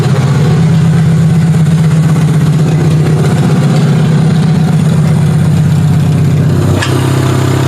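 A demolition derby car's engine idles loudly and steadily close by, its deep rumble holding even for several seconds before a sudden shift near the end drops it to a lower, quieter idle.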